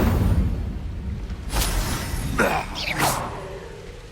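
Incendio fire spell cast in Hogwarts Legacy, a sharp whooshing burst of flame that flares twice in quick succession over a low rumbling game backdrop.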